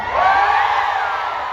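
A large crowd shouts loudly and continuously at a prayer rally for President Rodrigo Duterte, a dense roar of many voices that holds steady throughout.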